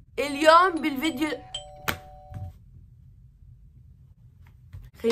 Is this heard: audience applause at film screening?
no